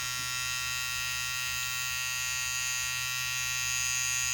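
A Gillette Styler 3 in 1 electric beard trimmer runs with a steady, close, high-pitched motor buzz and hum that holds constant throughout, with no talking.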